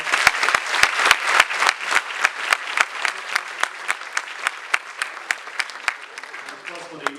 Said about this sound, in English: can we have a round of applause for Abhishek, Ritika, and everyone who's helped put this whole event together?